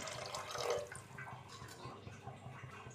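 Water splashes from a container into a pan of chicken roast curry, a brief gurgling pour near the start that fades into soft dripping and trickling.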